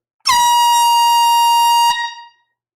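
An air horn sounds during a live record sale: a single loud, sustained blast lasting about a second and a half, steady and piercing, then cut off sharply with a brief fading ring.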